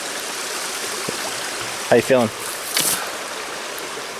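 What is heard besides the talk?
creek water flowing at campsite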